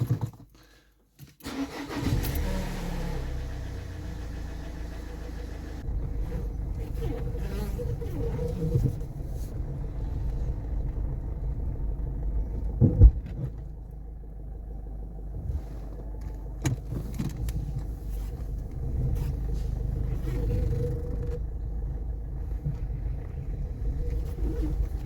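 A Peugeot 407 car runs steadily just after a CV boot replacement, its engine a low continuous rumble close by with a few clunks and a sharp knock midway.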